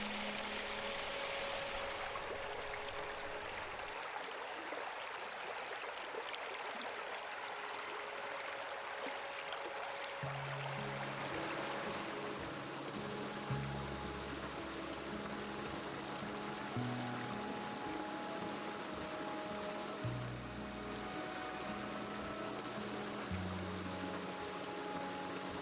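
An ice-edged winter brook at a nature preserve flows in a soft, continuous faint trickle and wash, with a low tonal hum drifting in and out beneath it.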